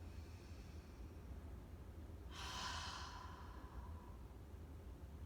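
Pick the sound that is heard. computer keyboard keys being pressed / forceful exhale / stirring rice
forceful exhale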